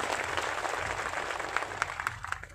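Audience clapping at a live devotional music program in a village in Rajasthan, a moderately faint spread of scattered claps with a few sharper hand hits standing out.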